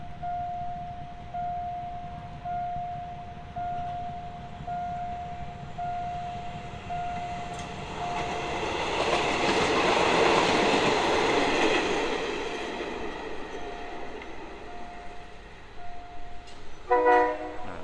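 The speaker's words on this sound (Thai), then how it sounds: "วันนี้เราก็ปิดท้ายไปกับขบวน 1118 นะฮะ รถพิเศษชานเมืองนะฮะ นครปฐมธนบุรี" Special suburban train 1118 from Nakhon Pathom to Thonburi passing a station, a steady rail rumble swelling as it goes by with a long horn tone, ending in a brief burst of wheel clatter.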